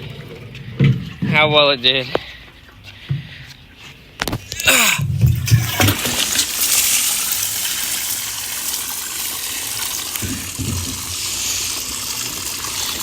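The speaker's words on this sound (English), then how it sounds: "let's pour this vinegar out" Vinegar poured out of a container during a 1985 Toyota MR2 restoration, a broad rushing liquid gush that starts around midway and runs steadily to the end, with close talk earlier in the clip.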